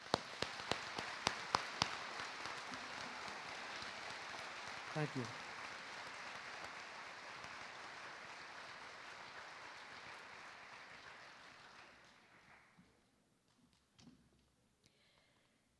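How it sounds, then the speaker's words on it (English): A graduation audience applauds the class of 2023 in a hall, a long dense roll of clapping that fades out toward the end, with a few sharp claps at the start and a brief voice thanking them. "Let's give this class a nice round of applause."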